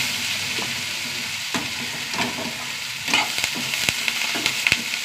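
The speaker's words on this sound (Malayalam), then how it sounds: "സവാള ഒന്ന് ചെറുതായിട്ട് വാടി വരട്ടെ." Thinly sliced onions and curry leaves sautéing in a pan, with a steady close sizzle and intermittent clinks and scrapes of a stirring spoon that grow more frequent toward the end. No voices.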